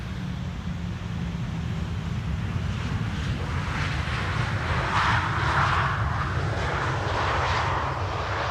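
A Cathay Pacific Cargo aircraft passes overhead near Schiphol's Polderbaan, a steady low engine rumble swelling slightly in the middle and then easing, with no voices.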